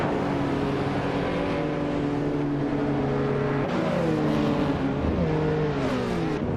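Engines of several race cars droning and shifting pitch as they jostle for position in a racing video game, a steady layered roar with no pauses throughout.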